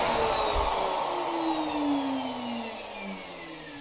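A workshop dust extractor runs during woodworking with a router, giving a loud, steady roar with a slowly falling whine as it winds down.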